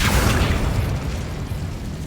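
A fire spell cast in the wizarding game Hogwarts Legacy, a loud booming whoosh of flame that bursts at the start and then rumbles on, gradually fading, with no voices over it.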